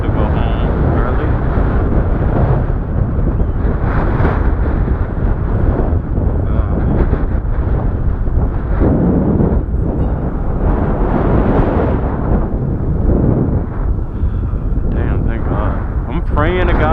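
Heavy wind buffets a microphone outdoors beside a modified electric bike, a loud low rumble that roars and surges unbroken throughout, with a voice talking over it.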